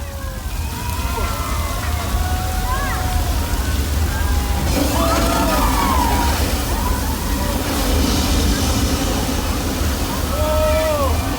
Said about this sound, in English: Thousands of gallons of recycled water now draining under the bridge into a pump and getting sucked back up to the top of the pump